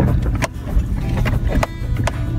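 A car rolls down a bumpy dirt driveway from an A-frame cabin above a valley, with a steady engine and road rumble and a few sharp knocks and rattles from the rough surface.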